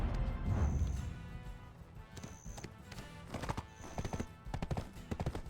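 Horse hooves clip-clop in the video game Black Desert Online, coming in short irregular bursts of sharp hoof strikes that grow busier toward the end, moderately close under faint game ambience.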